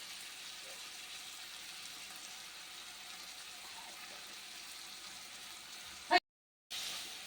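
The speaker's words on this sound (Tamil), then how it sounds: "இப்போ கிரேவி மாதிரி வதங்கிட்டுருக்கோம்" Chopped tomatoes and turmeric powder sautéing into a gravy-like base in a pan for an appalam kuzhambu, a faint, even sizzle running steadily until a brief clatter and a short cut to silence near the end.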